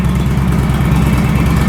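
A 2016 Indian Chieftain Dark Horse motorcycle with its stock exhaust idles steadily close by, a continuous low, throbbing engine rumble with no other sounds.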